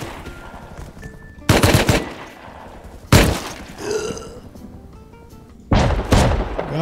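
Shotgun traps fire inside a base in the video game Rust: three loud, close blasts a second or two apart, each followed by a brief rumbling tail, with no voices between them.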